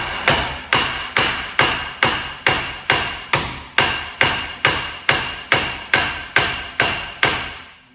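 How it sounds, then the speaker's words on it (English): Hammer striking the rear brake drum of a Vauxhall Corsa C: about sixteen sharp metallic blows in a steady rhythm, each ringing briefly before the next, loud and close with no talking. "Then get a hammer."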